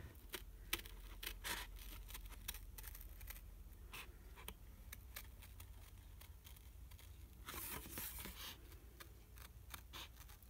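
Sharp snipping and crinkling of plastic being cut with large scissors, a quick run of close clicks and crunches, then a louder burst of rustling, faint and alone.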